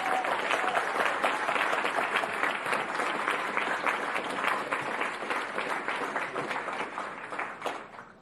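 In Palm Beach County, an audience applauds the county's Teacher of the Year, and the steady crowd clapping carries for several seconds before fading away at the close.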